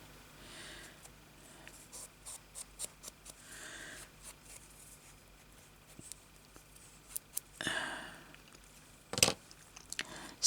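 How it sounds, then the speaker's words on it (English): Small scissors snip repeatedly in short, quiet bursts, close by, with a few louder rustles of paper between the cuts. "Maybe I'll wait till I get my little scissors and then I'll have a go at fixing that."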